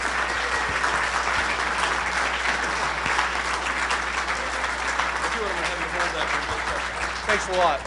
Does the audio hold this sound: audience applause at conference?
yes